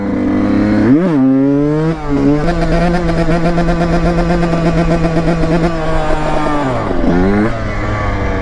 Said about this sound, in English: This two-stroke's just so smooth.